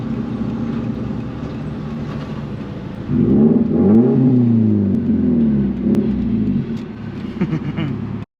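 A 400 HP Subaru STI drives with a steady engine drone, then accelerates hard with a rising, rumbling note heard from inside the car.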